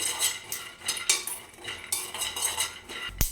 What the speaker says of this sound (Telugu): ఇప్పుడు ఇందులోకి మనకు కావాల్సిన పల్లీలు వేసుకోవాలి పల్లీలు బాగా ఫ్రై కానివ్వాలండి